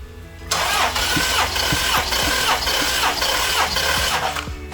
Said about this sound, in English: So we're going to do a compression test here after it's been put back together.